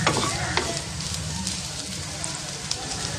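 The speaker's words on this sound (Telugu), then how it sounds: "రోస్ట్ అయ్యే వరకు కలుపుకోవాలి ఇలా రోస్ట్గా వేగిన తర్వాత" Egg ukkiri roasts in a pan while being stirred, a dense close sizzle with quick scrapes and taps of the spatula against the pan throughout.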